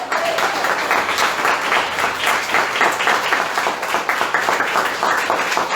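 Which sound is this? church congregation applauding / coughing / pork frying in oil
church congregation applauding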